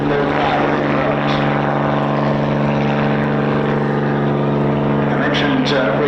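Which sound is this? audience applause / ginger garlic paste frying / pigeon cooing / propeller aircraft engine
propeller aircraft engine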